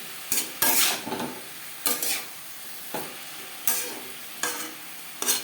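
Pumpkin with turmeric and salt stirred in a frying pan, soft sizzling under periodic scraping strokes of a spatula, about seven strokes at close range with no talking.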